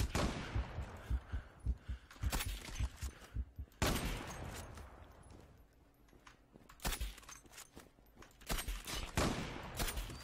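Gunfire in the online shooter Zula: bursts of sharp, close shots and rapid fusillades with echoing tails, coming in irregular clusters across the span.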